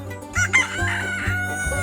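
A rooster crows loudly and close by on a rural farm, a full cock-a-doodle-doo rising and stretching out over a couple of seconds, with some clucking from chickens around it.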